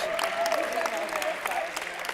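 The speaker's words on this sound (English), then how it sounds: "let's have a round of applause for all of our candidates" Applause from an audience honoring mayoral candidates at a forum on ranked choice voting, steady clapping throughout with faint voices mixed in.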